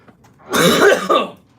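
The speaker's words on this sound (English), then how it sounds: "Having a little bit of a cough tonight" A single rough, raspy cough close to the microphone, lasting about a second, with a brief throaty catch at the end.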